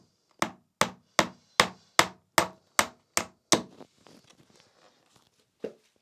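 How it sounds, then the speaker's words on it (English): A small plastic Little Tikes toy hammer taps a nail into a wall, nine quick evenly spaced knocks in a row, then a short pause and one last tap, close and crisp with no talking. "I can even use my wife's little baby little Tykes hammer."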